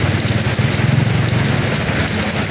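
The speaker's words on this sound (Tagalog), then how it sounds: "Pag umuulan, eh talagang naulan din" Heavy rain hisses steadily and loudly across the whole moment in Tiaong, with a low engine-like rumble beneath the dense, even wash of falling water.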